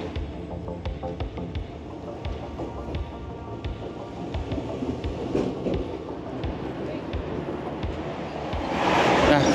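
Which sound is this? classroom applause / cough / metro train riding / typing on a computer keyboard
metro train riding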